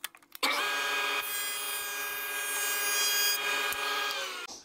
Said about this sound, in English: I'm just going to joint both sides